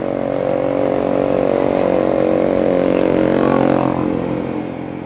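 A motorcycle engine roars loud and steady at high revs, holding a constant droning pitch for several seconds before easing off slightly at the end.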